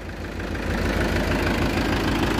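Mahindra 575 tractor engine running steadily at a low diesel rumble with a rhythmic knocking pulse, close and continuous, no talk over it.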